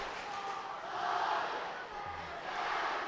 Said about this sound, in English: Oh, the Falcons going with the standard "we're losing" cheer